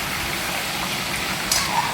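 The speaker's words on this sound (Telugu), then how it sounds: "చికెన్ మొత్తం దీంట్లో వేసేసుకొని ఒకసారి బాగా మిక్స్ చేసుకోవాలి." A kilo of chicken is stirred in a pot with spices, oil and ghee, giving a continuous close sizzling hiss. A faint scrape of mixing sounds near the end.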